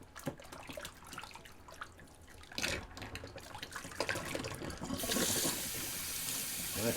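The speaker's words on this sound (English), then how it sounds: "I'm going to empty the old Sea Monster sink." A shaving sink, its basin emptied after use, drains with a steady gurgling rush that grows louder and fuller toward the end, close by and without talk.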